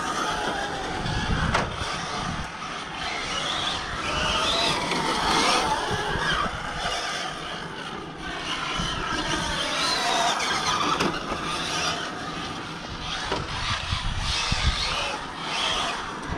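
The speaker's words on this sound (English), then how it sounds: "The BLX motor's got a right raspy sound." An RC car with a BLX brushless motor drives fast, giving a raspy whine that rises and falls as it accelerates and passes, with scuffing tyre noise over a moderately loud outdoor background.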